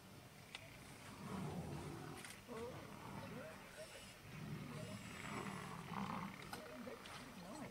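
Lions roar in the wild amid a tense standoff with crocodiles and buffaloes, repeated deep rumbling roars rising over steady outdoor noise while someone talks excitedly throughout.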